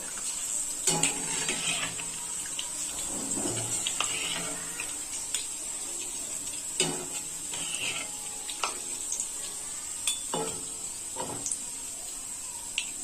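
Masoor lentils deep-frying in hot oil, a faint steady sizzle broken by scattered clinks and scrapes of a utensil against the pan and occasional splashy stirring.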